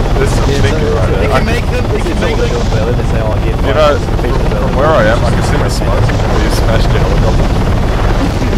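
A helicopter in the video game Arma 3 keeps up a loud, close rotor and engine drone without a break, while voices talk over it.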